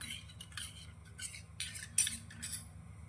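A spoon stirring spice masala with about four spoons of water in a pressure cooker for an onion and potato curry, giving a run of soft, close scraping clinks in uneven bursts with no talking.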